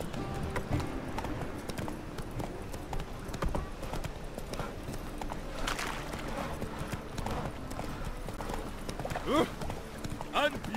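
Hoofbeats of Geralt's horse Roach in The Witcher 3: Wild Hunt, a steady clip-clop of galloping hooves running throughout, mixed with game ambience and occasional voices.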